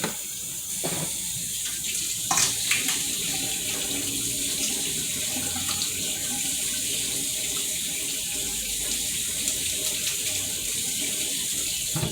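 Running tap water pours steadily into a kitchen sink as meat is rinsed under it, a close, continuous hiss and splash with a few brief clunks, no talking.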